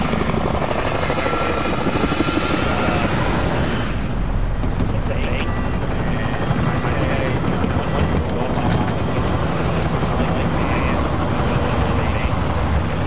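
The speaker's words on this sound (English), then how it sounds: "Helicopter." Helicopter flying in the video game Call of Duty Warzone, a loud continuous rotor drone and whirring that holds steady throughout, with wind-like noise and possible talk mixed in.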